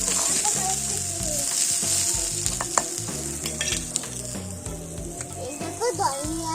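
Spices sizzling and frying in a pan while being stirred with a spatula, a steady close hiss broken by rhythmic scraping strokes, with a voice speaking softly in the background.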